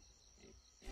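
A pig grunts in the survival game Atlas, a couple of short low snorts, faint and brief against a quiet game background.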